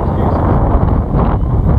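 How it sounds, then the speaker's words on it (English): Strong wind buffeting a microphone outdoors, a loud, continuous low rumble and roar that fills the whole short stretch without a break. "Complain about the wind being in the wrong direction."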